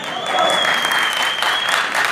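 Sustained applause from an audience at a wellness company's Diamond celebration event in Rajouri city, a steady dense clapping that holds at an even level throughout.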